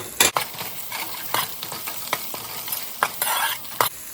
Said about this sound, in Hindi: अब मैं इसमें ये थोड़े से साबुत गरम मसाले डालूंगी